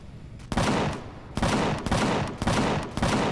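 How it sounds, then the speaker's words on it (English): A cannon turret in Empyrion Galactic Survival fires heavy booming shots at a slow, regular pace, five blasts roughly a second apart, each loud and close with a short decaying tail. "Let me see if I can cannon turret those things"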